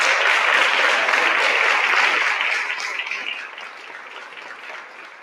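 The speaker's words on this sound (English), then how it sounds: "Let's give all of our awardees tonight a rousing round of applause" Sustained applause from a crowd at an awards ceremony for honorees at a Martin Luther King Jr. celebration, dense and even at first, then thinning and easing in the last couple of seconds with no talking.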